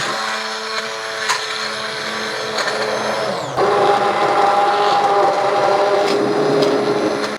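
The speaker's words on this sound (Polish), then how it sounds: "Jak włożycie i będziecie blendować, czy pryska" A blender purees Hokkaido pumpkin soup in a pot, making a continuous loud, whining motor roar. The pitch shifts and the sound grows fuller partway through, then it cuts off at the end.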